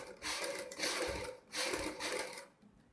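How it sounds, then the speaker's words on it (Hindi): A sewing machine stitches a zipper onto a V-neck neckline in quick whirring bursts, each about a second long, separated by short pauses, and the last burst cuts off abruptly. "बड़े ही ध्यान से आपने बारीकी से सिलाई लगाते हुए जिप लगानी है।"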